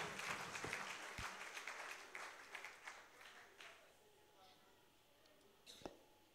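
A church congregation applauds loudly during a worship service, dense clapping mixed with voices that gradually thins and fades out, leaving a few scattered claps near the end.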